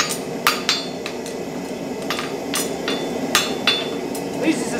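A farrier hammers a symmetrical horseshoe in Newmarket: a series of sharp, ringing metal strikes, close and loud, falling in an uneven rhythm of single blows and quick pairs.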